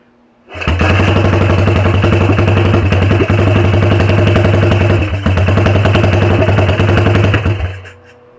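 A Yamaha SR500 single-cylinder motorcycle, started for the first time in ten years, catches and runs loud and close with a steady, rapid thumping beat for about seven seconds before cutting out.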